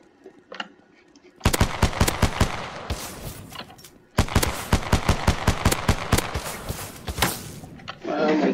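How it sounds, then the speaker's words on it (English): Rapid pistol fire in a video game, loud and close: a quick run of shots, a short pause, then a longer rapid string of shots, with a faint thud at the start. "let's use this pistol."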